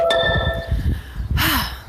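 A phone notification chime sounds outdoors, a short bright tone with a lingering ring near the start, followed by a brief rustle or clatter.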